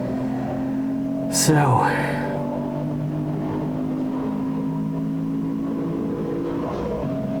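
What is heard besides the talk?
race car engine while lapping a slower Mazda MX-5 at Silverstone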